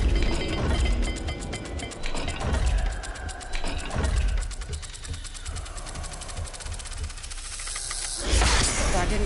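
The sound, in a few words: turning a puzzle dial mechanism in Hogwarts Legacy video game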